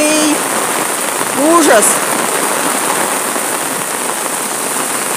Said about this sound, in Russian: Ой, какой дождина начался страшный.